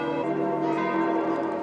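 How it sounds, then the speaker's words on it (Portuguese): Church bells ringing at the Vatican over St. Peter's Square, a dense, continuous, sustained peal with layered ringing tones and no audible talk. "Quando os sinos tocaram, era o momento da partida."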